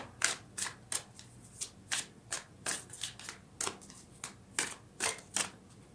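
Quick crisp riffling bursts of shuffled tarot cards, repeated in an irregular rhythm, close and fairly soft with no talking.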